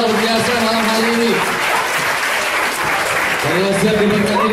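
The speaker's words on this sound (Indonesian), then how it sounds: "Tepuk tangan bagi Tuhan kita yang luar biasa malam hari ini." Sustained applause from a church congregation at an evening service fills the space while a voice speaks over it, loud and continuous throughout.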